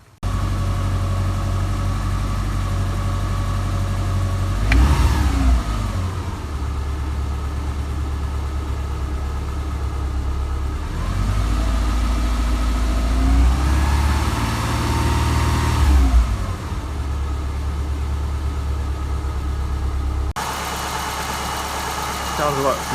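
The EJ251 engine of a Subaru Impreza 2.5RS idles after a reinstall with a fresh head gasket, clutch and timing belt, giving a steady, loud mid-pitched hum broken by a couple of brief revs, while someone talks over it.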